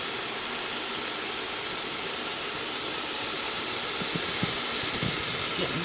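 Steam hissing steadily from an Instant Pot cooking chicken soup with stinging nettle, a loud broad continuous hiss that stays constant throughout, with a few faint clicks and knocks beneath it.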